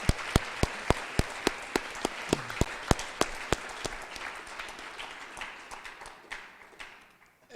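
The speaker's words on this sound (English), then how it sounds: "I'd like to ask for a round of applause for our coaches." Applause at a school district town meeting: a run of sharp, evenly spaced claps, close and distinct, that gradually thins and fades into a softer wash of scattered clapping.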